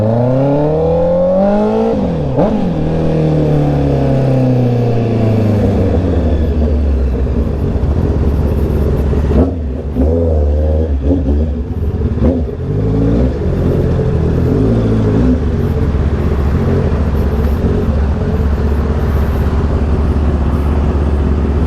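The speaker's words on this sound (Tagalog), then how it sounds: "Parang pumapalya siya" A Honda CB650R motorcycle engine runs loud and close in traffic, its tone rising and falling through revs with irregular dips and stumbles that suggest misfiring, continuing throughout without speech.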